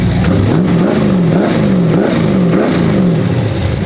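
A Chevy V8 in a casket car build revs hard through a hand-pulled throttle cable after a broken pedal, loud and close, with rhythmic rising and falling blips of the engine and no voices.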